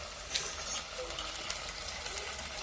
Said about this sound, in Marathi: हा चांगला परतून द्यायचा हा मसाला.